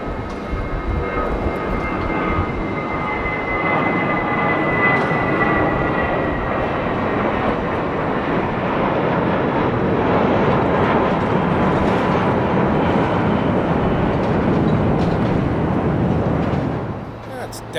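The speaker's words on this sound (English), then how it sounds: "Airways A320 Neo, that is off to Dublin" An Airbus A320neo takes off from Heathrow bound for Dublin, its engines roaring loud and sustained for most of the time before easing off at the end, with a voice talking over it.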